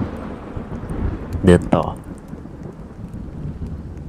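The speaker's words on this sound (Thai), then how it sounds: "ฝนตกนะครับ" Rain falls steadily outside a balcony in the horror game Trespass Act III, set at night in a forest, with a brief, close rumble of thunder partway through and someone talking over it.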